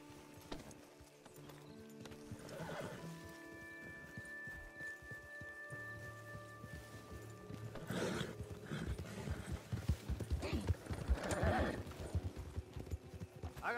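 Horses in the game Red Dead Redemption 2 whinny early on, then clip-clop at a building gallop. The hoofbeats grow louder and denser over the last several seconds, with a faint voice in the background.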